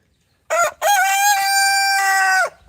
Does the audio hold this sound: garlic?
no